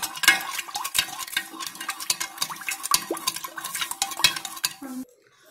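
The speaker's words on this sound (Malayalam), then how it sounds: "എല്ലാം കൂടി നല്ലൊന്ന് മിക്സ് ആകുന്ന രീതിയിൽ കുറച്ചു നേരം നല്ലൊന്ന് ഇളക്കിയിട്ട്" A homemade jackfruit wine mixture is stirred briskly in a vessel, giving continuous close scraping, clinking and sloshing for about five seconds before it stops abruptly.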